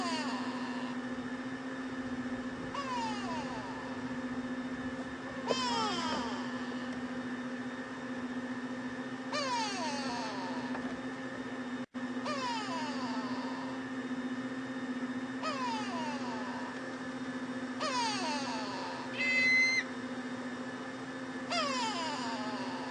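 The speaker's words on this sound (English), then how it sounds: "you can hear the go-away birds are still quite upset" Go-away birds at Djuma Game Reserve call out in agitated alarm, repeated harsh descending cries spaced every few seconds over a steady low vehicle engine hum.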